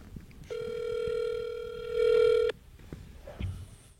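A telephone ringback tone heard over a speakerphone while calling to order pizza, one steady electronic tone lasting about two seconds, then quiet room noise with a faint click.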